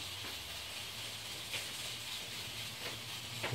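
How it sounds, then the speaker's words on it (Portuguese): Butter melting in a hot pan on the stove gives off a steady, soft sizzling hiss that runs unbroken throughout, fairly quiet, with no voices over it. "Coloca a manteiga aqui no fogo."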